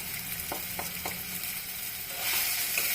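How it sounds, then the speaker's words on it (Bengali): Bitter gourd, potato and eggplant fry sizzles steadily in a pan while a spatula scrapes through it in a few distinct strokes, the hiss swelling louder toward the end. "এবার নাড়াচাড়া করে নামিয়ে দেব।"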